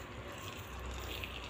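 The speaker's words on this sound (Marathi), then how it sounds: "तर आता या पिठामध्ये थोडं थोडं पाणी घालायचं आहे" Water trickles into a pot of one bowl of besan flour, added a little at a time; a faint, steady, soft pouring sound with no talking.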